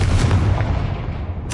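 Confringo fire spell blast in the video game Hogwarts Legacy on PS5, a single loud, booming explosive burst that decays quickly with a brief crackle at the end.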